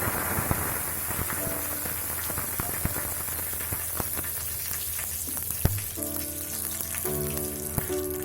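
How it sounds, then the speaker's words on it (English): Curry leaves and whole red chilies splutter in hot oil, giving a dense, continuous crackling sizzle with sharp pops scattered throughout. The sound is close and steady, with no voices. "Then add some curry leaves and the whole red chilies."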